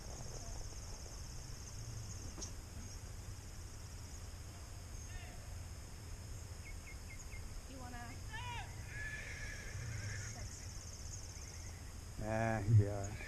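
A stallion gives a short, distant whinny near the end, while faint insect chirping fills the background and people talk quietly throughout.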